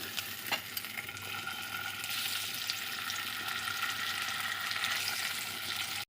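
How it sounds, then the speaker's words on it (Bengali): Hilsa fish heads fry in hot mustard oil, giving a loud, dense, continuous sizzle that holds steady close by. "তেল গরম হয়ে গেছে এখন মুড়োগুলোকে দিয়ে দিচ্ছি"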